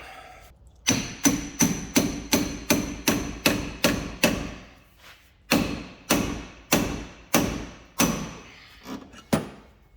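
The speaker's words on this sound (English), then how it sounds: "Step two, ball joint splitter." Hammer blows on a ball joint splitter fitted to the top wishbone of an Alfa Romeo 147, 156 or GT, a quick run of sharp metallic strikes, then a short pause and a few slower, spaced hits.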